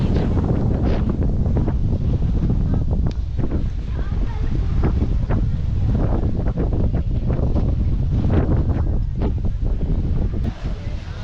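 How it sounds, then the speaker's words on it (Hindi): Strong cold winter wind in Amsterdam buffets the microphone, producing loud, constant rumbling roar throughout with gusty surges and no pause. "तो इस वक्त खासी सर्दी है और हवा बहुत तेज़ है।"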